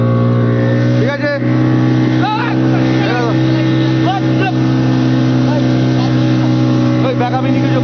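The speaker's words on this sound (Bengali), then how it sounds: "দেখো আমরা যাচ্ছি বোট নিয়ে" A rescue motorboat engine drones loudly and steadily at sea off Digha, heading toward a sinking trawler, while voices shout over the engine noise.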